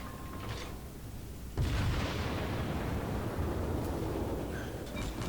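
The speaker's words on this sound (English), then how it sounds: "I'm going to fire an armor-piercing round at the St. Louis, see what happens." A World of Warships battleship, the tier 3 Japanese Kawachi, fires an armor-piercing round at an enemy ship: a quiet low rumble of engines, then a loud booming salvo that rolls on as a sustained heavy roar.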